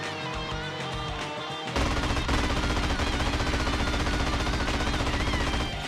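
Dense, continuous gunfire in GTA: San Andreas as the player shoots at fleeing couriers, starting after a quieter opening and then hammering steadily and loudly as sustained rapid automatic bursts.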